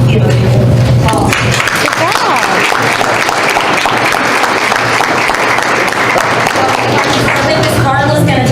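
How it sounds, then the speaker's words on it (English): Applause from people at a board meeting, a burst of clapping that starts after a brief pause and holds steady and loud for several seconds. "Just want to give a big applause."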